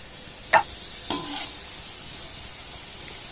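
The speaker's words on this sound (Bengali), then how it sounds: "এবার যে নাস্তাগুলোকে আমি বানালাম সেগুলো ভেজে নেব" Potato and flour snacks fry in hot oil with a steady, soft sizzling hiss, broken by two brief stirring clinks from a utensil in the pan. No voices are heard.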